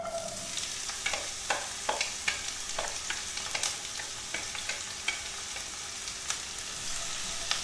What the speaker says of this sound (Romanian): Când s-a încins, adăugăm ceapa.